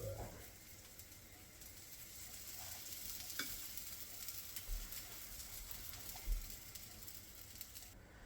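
Small pancakes fry in a pan, giving a soft, steady sizzle at low volume with a few faint clinks and scrapes and no voices.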